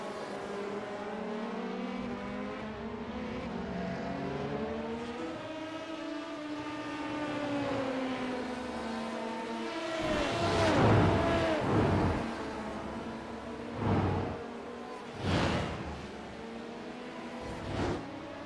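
Race cars including a Porsche LM23 in an endurance racing video game at Twin Ring Motegi, a droning engine whine that rises and falls, then several loud passes sweeping by in quick succession.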